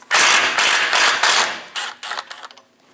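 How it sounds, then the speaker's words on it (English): A 10mm socket on a ratchet loosens the top bolt of a front sway bar bracket on a Chevrolet Express 2500 van, giving loud, close bursts of rapid pawl clicking that taper off into shorter strokes. "Using a 10mm socket, remove the top bolt"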